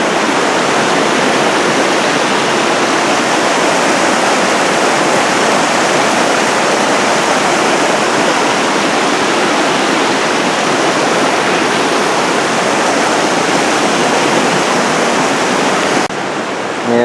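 Talapus Creek rushes loudly beneath a footbridge on a mountain trail near the lakes, a dense, constant roar of churning water that fills the whole stretch without letting up, close and steady with no voices.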